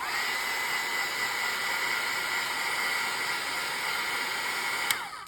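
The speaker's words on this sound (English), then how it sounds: "So now let's hit that with the heat gun again." A heat gun blows steadily over a watercolor painting, giving a constant loud airy whoosh with a high whine that runs unbroken and cuts off abruptly at the end.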